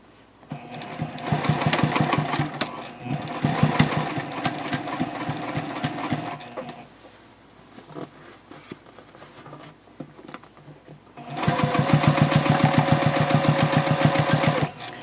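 A sewing machine stitches a Swoon Betty Bowler bag along an earlier seam line in two long, fast, rattling runs, separated by a quieter pause of handling noise.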